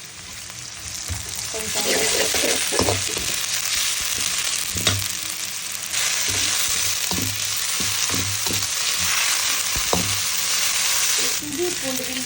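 Ginger garlic paste fries in a pan for a chicken black pepper fry, giving a loud, steady sizzle with scattered clinks and scrapes of stirring and a single brief spoken word.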